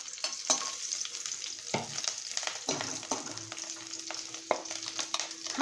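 Three slit green chillies frying in hot oil in a pan, a steady close sizzle with scattered pops and light stirring scrapes, no voices.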